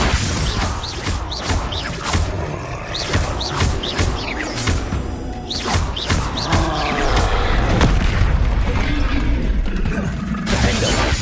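Repeated Confringo fire spell explosions in Hogwarts Legacy, loud crashing bursts and thuds in fast succession amid combat clatter, with no clear talk.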